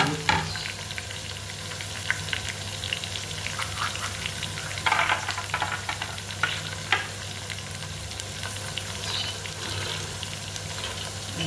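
Onions, carrots and other vegetables fry in a pan with a continuous close sizzle and occasional stirring knocks and crackles, no voices over it.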